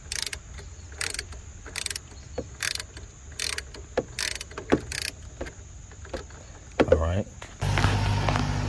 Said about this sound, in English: Use the ratchet now.